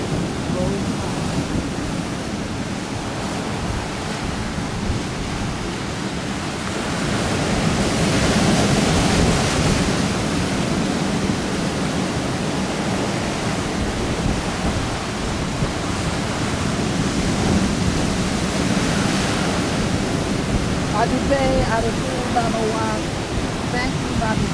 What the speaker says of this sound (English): Close your eyes and listen to the sound of the waves.